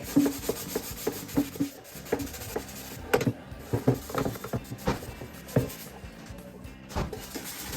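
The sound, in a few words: scrubbing the outside of a dirty air fryer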